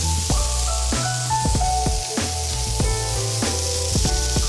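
A burger patty sizzles loudly and steadily on a hot grill, a dense continuous frying hiss broken by a few sharp metallic clicks and taps, with no talking.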